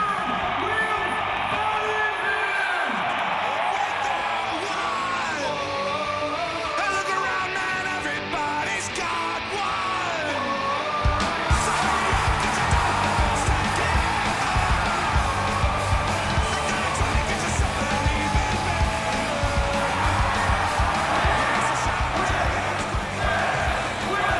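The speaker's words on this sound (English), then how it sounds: "The whole crowd chanting, the whole crowd." A large crowd chanting and cheering for Wheelz's backflip at a live freestyle motocross show, a dense, loud roar that swells partway through, with an announcer talking over it.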